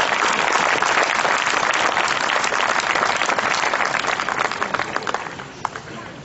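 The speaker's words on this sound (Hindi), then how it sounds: "हाथों की जुम्बिश तालियों की गूंज बन जाती है।" A dense wash of audience applause at an Iqbal Week celebration in Sialkot greets a poet, loud and sustained, then thinning into scattered claps near the end.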